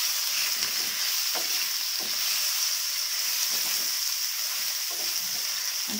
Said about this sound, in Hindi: अभी मैं ऐड कर दूंगी पंपकिन, इसको भी फ्राई कर लेना है